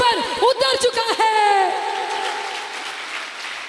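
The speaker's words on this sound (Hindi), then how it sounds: "भरपूर तालियों से उसको जलाल दे" A church congregation clapping: a loud voice calls out first, then a broad wash of applause builds and carries on steadily, fading slightly at the close.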